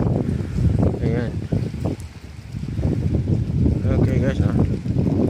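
Wind gusts steadily past the microphone beside the Davao coastal road near the Ulas Viaduct, a loud low rumble throughout, with someone talking over it.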